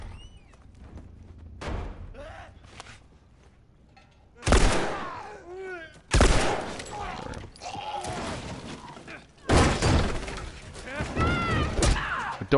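A few sharp, loud gunshots ring out in The Last of Us on Grounded Plus difficulty, spaced several seconds apart, with someone talking in between.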